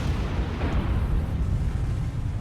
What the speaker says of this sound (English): No, it was just a normal explosion,